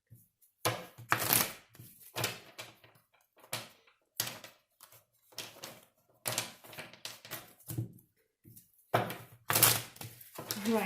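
Tarot cards being shuffled during a reading, a series of brisk riffling bursts separated by short pauses, close and fairly quiet, with a few sharper snaps as the deck is bridged and squared.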